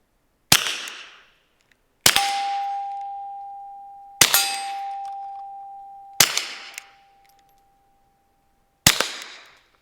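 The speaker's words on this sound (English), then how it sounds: "I'll just shoot in the dirt first." Five sharp shots from a TX22 pistol fired into dirt, widely spaced and fairly loud, each with a ringing metallic tail that fades before the next.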